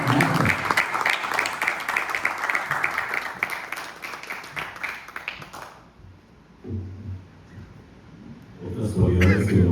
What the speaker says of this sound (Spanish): al maestro Noé Guerra Pimentel, a quien le pedimos un afectuoso aplauso y muchas gracias, maestro.